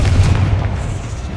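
A Confringo fire spell explodes in Hogwarts Legacy with a deep, rolling boom that rumbles loudly and fades slowly over a second or so.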